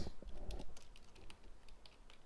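Quiet, irregular computer keyboard typing as JavaScript code is entered, soft clicks in a brief burst with low room noise.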